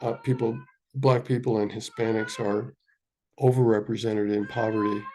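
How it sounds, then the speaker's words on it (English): A cat howls and meows repeatedly in a room while a person speaks steadily; the drawn-out, wavering cries sit clearly under and between the speech. "And pardon my cat, you might hear howling a little bit in the background."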